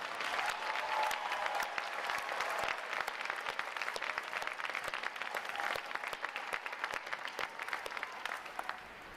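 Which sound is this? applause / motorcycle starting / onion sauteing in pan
applause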